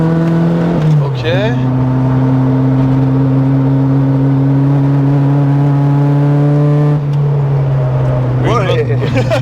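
A loud Renault R5 Turbo 2 rally car engine holding a high, steady rev with a couple of sharp throttle blips, close up and continuous.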